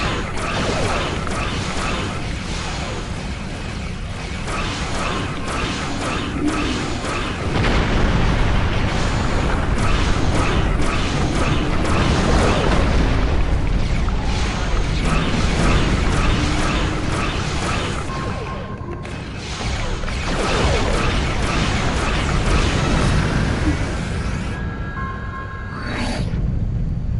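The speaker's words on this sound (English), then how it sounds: "Press the circle button to activate high-yield torpedo." A high-yield torpedo fires and explodes in the space combat game Star Trek Online, with heavy booms, crashing blasts and mechanical rumble rolling on continuously and loudly.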